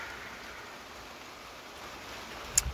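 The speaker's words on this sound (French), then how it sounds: "Et puis là, la pluie reprend bien." Rain falls in a soft, steady hiss at a moderate distance, unbroken for the whole stretch, with a brief faint knock near the end.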